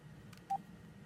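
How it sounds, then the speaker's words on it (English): A single brief dial tone beep sounds faintly from a landline telephone being dialed, set against a low steady background hum. "So I'm calling them up on this phone"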